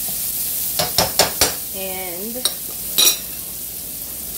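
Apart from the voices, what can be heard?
avocado frying in bacon grease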